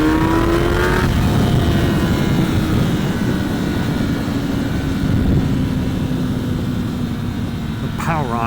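2024 Kawasaki Ninja ZX10R sport bike ridden on a winding road, a loud continuous engine roar with shifting pitch, buffeted by heavy wind noise.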